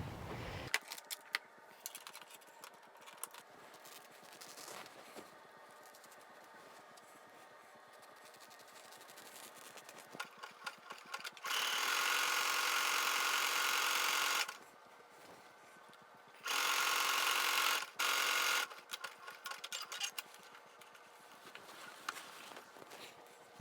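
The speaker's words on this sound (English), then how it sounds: "a quick trip through the sewing machine" A sewing machine runs in two short whirring bursts of fast, steady stitching, surrounded by quiet handling noises and rustling of fabric.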